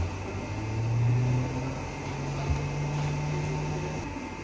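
Laboratory centrifuge running at about 10,000 RPM while spinning samples for DNA isolation by salting out, giving a steady low motor hum with a faint whine, continuous and close throughout.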